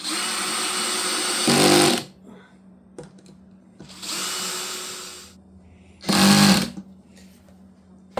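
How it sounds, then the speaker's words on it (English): A power drill driving screws whirs in two short bursts several seconds apart at low torque while a pizza press is assembled, with lower motor hum and clicks between, close and loud. "I do not have a high torque set on my driver here"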